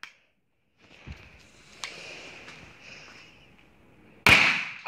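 A single sharp firework blast bursts loudly near the end, preceded by a quieter stretch of faint hissing, scattered pops and light knocks.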